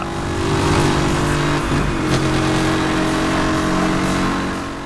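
Bugatti Veyron engine in the racing video game Need for Speed Hot Pursuit, a loud, sustained, steady roar of the engine at high revs with no talk.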